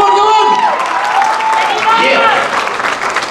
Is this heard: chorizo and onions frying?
no